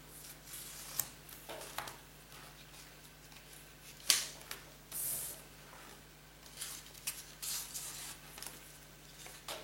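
Packaging on a vinyl album is cut open with quiet scratchy snips and crinkles, close and faint, with one sharper cutting sound around four seconds.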